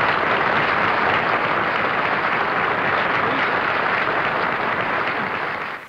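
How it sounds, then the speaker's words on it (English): Sustained, steady applause from an assembled audience greeting a magazine editor-in-chief, a broad even wash of clapping that holds level and fades slightly at the end. "So let's have a tremendous applause,"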